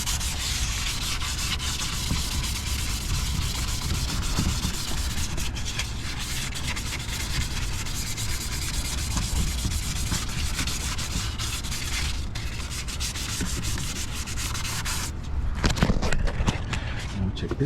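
Clear coat being rubbed off a car panel by hand, a steady, dense abrasive scrubbing that continues without a break, close and fairly quiet.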